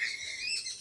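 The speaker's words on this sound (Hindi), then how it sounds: "आप लोग को चिड़िया की आवाज़ सुनाई दे रही होगी" High, thin bird chirps carry softly through the outdoor air, a faint continuous twittering with no one speaking.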